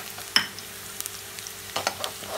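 Fenugreek seeds drop into hot oil with browned onions, giving a sharp crackle followed by a quiet continuous sizzle and a few light pops and stirring clicks.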